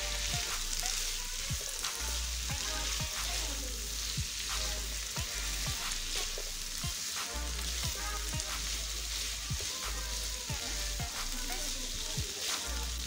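Minced keema fries in masala in a pan with a dense, steady sizzle throughout, punctuated by scraping stirs, loud and close with no voices.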